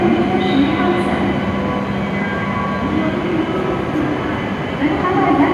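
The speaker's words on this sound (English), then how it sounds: "513, departing at 19:57, bound for Tsuruga, is arriving at track 14." A Hokuriku Shinkansen train arrives at a Kanazawa station platform, a dense rolling rumble of wheels and motors with faint squealing tones, steady and loud, with station noise underneath.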